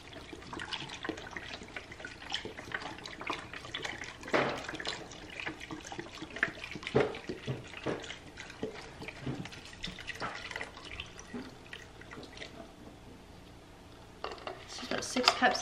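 Chicken broth poured into a pot in a home kitchen, a steady liquid splashing and trickling that runs for several seconds amid clinks and handling noises, with a person talking intermittently over it.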